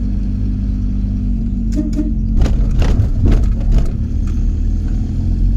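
A VW T25 van with a swapped-in turbo TDI diesel engine pulls hard in second gear, its close, loud engine drone rising with bursts of rattling and clatter as it accelerates.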